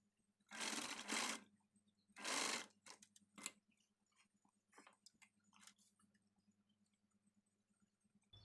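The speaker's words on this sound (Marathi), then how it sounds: "अशा प्रकारे आपण लेस याच्यावरती स्टिच करून घेऊ आकारावरती" A sewing machine stitches lace onto the back neck of a blouse in two short bursts of close rapid whirring, followed by quieter clicks and light handling taps.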